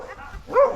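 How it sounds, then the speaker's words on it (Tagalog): A small dog gives a single short bark or yip, close by and brief, after a moment of quiet. "Ang ganda ng aso mo."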